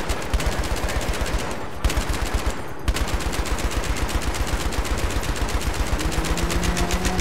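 Sustained machine gun fire from a Battlefield 3 video game battle, a loud rapid rhythmic stream of shots with two brief pauses, continuing steadily to the end without talk.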